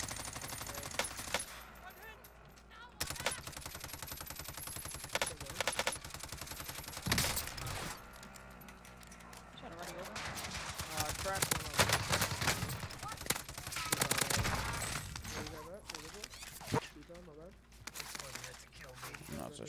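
Rapid gunfire bursts in a first-person shooter video game, with dense machine-gun fusillades and sharp single shots crackling throughout, alongside a player talking over the action.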